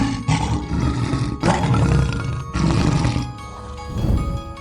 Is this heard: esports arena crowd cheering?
no